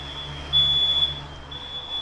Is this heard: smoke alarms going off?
yes